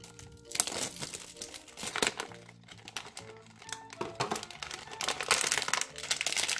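Crinkly plastic toy packaging bag for Shopkins furniture pieces being opened, close, irregular bursts of crackling and rustling that swell louder toward the end, with no talk.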